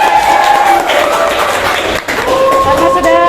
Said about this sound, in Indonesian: kita tepuk tangan lagi untuk kita semua